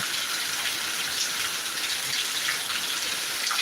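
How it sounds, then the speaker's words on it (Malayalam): Heavy rain pours down steadily in Attingal, Thiruvananthapuram, a dense, even hiss of countless drops close by with no pauses or voices. "നല്ല കിടില മഴ കേട്ടോ അടിപൊളി മഴ"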